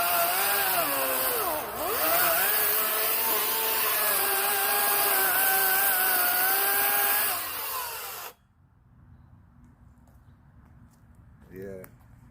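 A chainsaw with a dull chain cuts into wood, loud and close, whining steadily for about eight seconds with a brief dip under load before shutting off, leaving a quiet stretch with faint voices.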